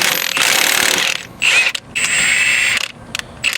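A wrench with a 24mm 12-point socket loosens the axle nut on an MK8 Golf R, giving loud, close bursts of ratcheting and grinding metal separated by short pauses.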